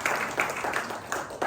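Congregation in a church worship service applauding, a short burst of dense, even clapping at moderate level with faint rhythmic peaks, no talk over it.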